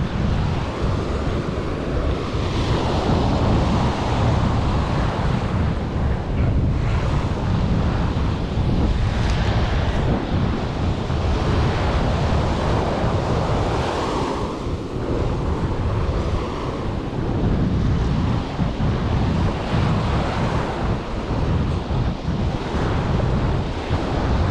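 Ocean surf breaking continuously at Praia do Francês beach in Marechal Deodoro, Alagoas, Brazil, a loud, dense roar of waves with heavy wind buffeting the microphone throughout, no voices.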